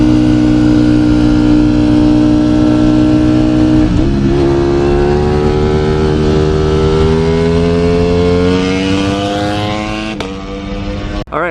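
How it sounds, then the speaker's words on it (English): A 2020 Streetfighter motorcycle with a full Akrapovic exhaust revs loudly and continuously up close, its pitch rising steadily after a brief dip, with a sharp blip near the end. "You can really hear what this exhaust sounds like"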